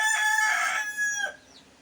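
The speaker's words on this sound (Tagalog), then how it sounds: "Dito na ako sa kulungan ng manok," Chickens cluck and squawk close by in a coop, a brief burst of calls that fades quickly into quiet.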